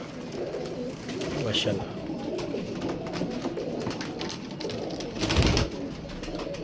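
Teddy pigeons cooing in soft repeated phrases close by, under a voice speaking, with a brief louder flutter or knock near the end.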